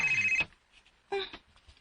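A cellphone rings with a steady electronic bell-like tone for about half a second, cutting off abruptly, followed by brief nearby voices and faint room sounds.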